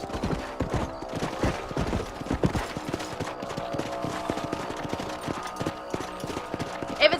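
A horse being ridden in the video game Red Dead Redemption clip-clops in a steady, even rhythm, the hoofbeats close and continuous throughout with no talking over them.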